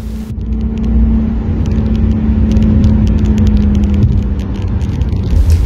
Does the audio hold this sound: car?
yes